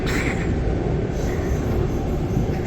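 An electric train rolling along the rails, a dense, loud rumble heard from on board, steady from start to finish.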